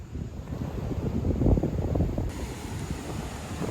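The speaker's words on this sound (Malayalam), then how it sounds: "പക്ഷേ ആ നല്ല കാറ്റുണ്ട് ഗൈസ്" Strong sea wind on a fishing trip buffets the microphone in a constant low roar, rising and falling slightly, with a faint wash of sea underneath.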